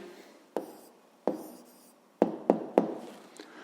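A pen writes an answer for a fifth-grade maths problem on paper, giving a handful of close, sharp scratching strokes spaced irregularly with quiet gaps between.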